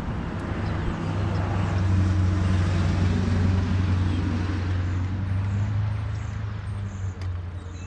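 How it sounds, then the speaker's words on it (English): Steady low engine rumble of road traffic passing nearby, a continuous drone with broadband noise and no talking. "Have to excuse the traffic over here"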